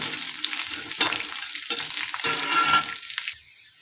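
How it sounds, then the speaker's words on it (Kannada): Charoli seeds and other ingredients for sheer khurma sizzle and crackle steadily in hot fat in a pan, close up, with stirring scrapes now and then. The sound drops away abruptly near the end. "ಇವನ್ನೆಲ್ಲ ಈಗ ಚೆಂದಾಗಿ ಫ್ರೈ ಮಾಡ್ತಾರೆ"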